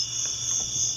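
A dog-day cicada gives a steady, loud, high-pitched buzz close by, continuous without a break.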